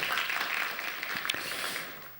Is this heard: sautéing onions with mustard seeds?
no